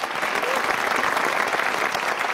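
A studio audience applauds in a dense, even burst of many hands clapping that holds steady for a couple of seconds.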